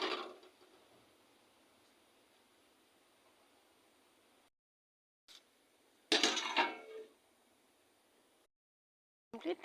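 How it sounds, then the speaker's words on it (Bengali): A cooking pot is stirred and covered during mass cooking, giving a short burst of metallic scraping and clatter between long stretches of faint hiss, followed by near silence and a brief final clink. "দিয়ে ভালোভাবে নেড়ে চেড়ে আবার কিছুক্ষণের জন্য ঢেকে দেব।"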